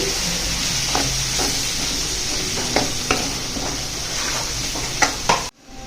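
Fried rice with chilli powder stirred in a pan on a low flame, a steady loud sizzle under repeated scraping strokes of a spoon against the pan, ending with a sudden cut.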